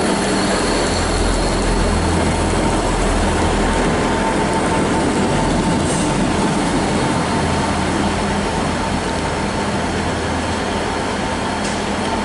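A Class 158 diesel multiple unit in new livery passes close by, a loud steady rumble of engine and wheels on rail that holds throughout with no voices.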